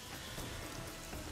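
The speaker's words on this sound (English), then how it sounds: "I forgot it's raining" Rain falls steadily in the video game Utawarerumono, a soft, even hiss of droplets with no voices or other sounds on top.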